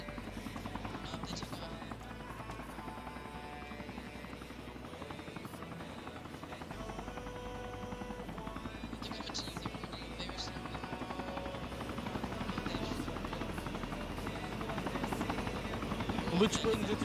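Black Hawk helicopters in a video game, their steady rotor drone running continuously throughout and building slightly toward the end, with voices talking over it.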